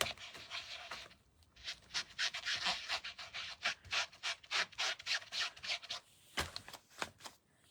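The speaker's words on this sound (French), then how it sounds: "Je vais juste nettoyer mon étampe." A rubber ink stamp inked in midnight blue is rubbed clean with a cloth in brisk back-and-forth strokes, a close, rhythmic scrubbing that picks up pace after a brief pause.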